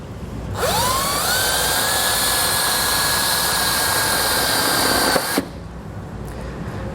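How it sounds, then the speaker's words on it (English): A self-tapping screw is power-drilled into a vehicle chassis at a grounding point, giving one loud, sustained high whine that rises in pitch at the start, holds steady for about five seconds, then cuts off abruptly. "We're just going to go ahead, take our self-tapping screw, and just kind of get this drilled in place."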